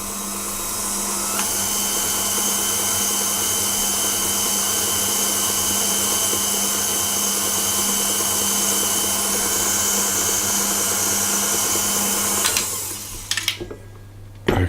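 An electric mixer blends the last third of the flour into cupcake batter, a loud steady whirring motor running close for about twelve seconds before it cuts off, followed by a few faint knocks.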